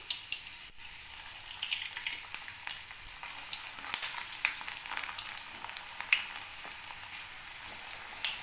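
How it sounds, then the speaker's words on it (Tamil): Snake gourd pieces frying in hot oil, a dense crackling hiss of popping bubbles that holds steady throughout with small irregular spits, moderately quiet and close, no speech. "இந்த புடலங்காய் இருக்குது இல்லையா அதை இதில் போட்டு பொறிச்சு எடுத்துக்கலாம்"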